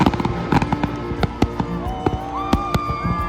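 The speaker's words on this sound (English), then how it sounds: "the New Year's fireworks were the perfect way to end such an epic year" New Year's fireworks over a Whitsundays island burst in a quick series of sharp cracks and bangs, with whistling rising streaks in between, no talk.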